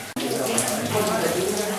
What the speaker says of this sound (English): Now this is our waterfall, which is pretty self-explanatory